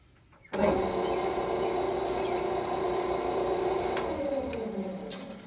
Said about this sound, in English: we're going to turn on the lathe and make sure that our setup's still good. Running this at 300 RPMs.